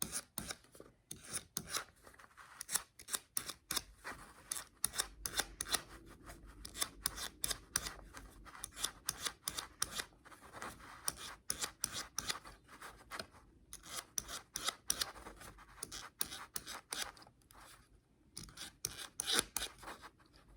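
Knife slicing crisscross cuts into a book spine during perfect binding, a long run of quick, quiet scratchy strokes with short pauses, close and dry.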